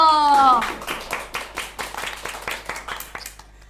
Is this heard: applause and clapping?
yes